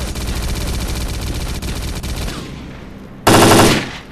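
Machine gun fire in the video game S.T.A.L.K.E.R: Clear Sky, a loud sustained rapid burst of shots that stops, then a short harsh blast of noise near the end.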